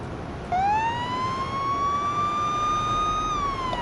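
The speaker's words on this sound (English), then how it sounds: "Sirens blaring, let them know it's over." A police car siren in the Police Simulator video game starts abruptly and holds a loud, steady rising wail over a constant background rumble.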